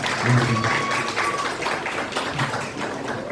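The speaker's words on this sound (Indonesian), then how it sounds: "Boleh tepuk tangan untuk anak-anak kita." Audience applause for schoolchildren at an elementary-school Quran memorization (tahfidz) thanksgiving ceremony, a steady wash of clapping that carries on throughout at moderate loudness, with faint voices mixed in.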